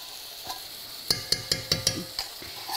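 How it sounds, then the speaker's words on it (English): Coconut cream is poured into a hot pan for red Thai curry and sizzles steadily, while a run of six sharp, evenly spaced clinks and scrapes from a utensil stands out close by. "I'm about to add some liquid. The first liquid I'm adding is the coconut cream."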